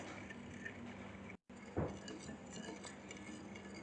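Flour is stirred into a dough mixture in a bowl, with quiet scraping and a few faint clinks of a spoon, one brief bright clink standing out after a short gap; no one speaks.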